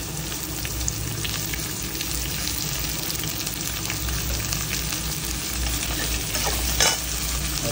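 Garlic sizzling in hot oil in a pan while being stirred, a dense continuous frying hiss with faint scraping, fairly loud and close, with no voices.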